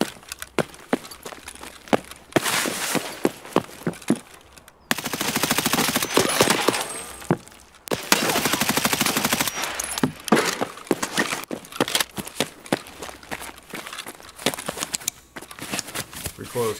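A Colt M4A1 rifle in the video game Escape from Tarkov fires in repeated bursts and long sustained automatic strings. The sharp, close shots crack out loudly with short pauses between volleys, and no one talks.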